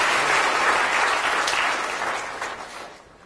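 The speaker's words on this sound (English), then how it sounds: "Can we have a big round of applause?" Audience in a lecture hall gives a round of applause after a lithium reaction demonstration, a dense wash of clapping that holds steady then tapers off toward the end.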